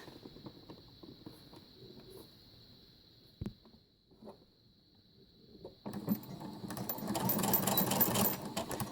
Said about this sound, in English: I'm going to come forward a couple of stitches and back stitch.